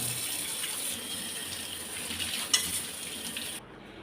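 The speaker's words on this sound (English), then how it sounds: "we'll clean the dishes here so that we start on a clean slate." Tap water runs steadily into a kitchen sink as dishes are washed, a continuous close hiss and splash with a brief clatter near the end before the flow stops abruptly.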